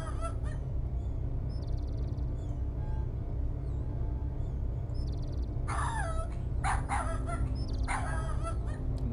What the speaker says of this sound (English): the dog can't be barking when I go back there